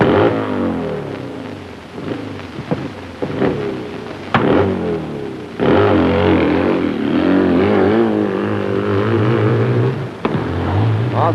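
A racing motorcycle at a hill climb event in Muskegon charges up the hill, its engine roaring loud and rising through revs with sharp gear-change breaks, a sustained throaty blast through most of the run.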